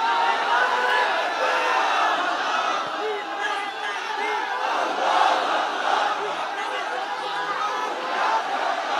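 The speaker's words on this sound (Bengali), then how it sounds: "তাকবীর দেন তো একজন আওয়াজ করে" A large crowd at an Islamic sermon gathering shouts the takbir together in a loud, sustained roar of many voices that fills the whole stretch.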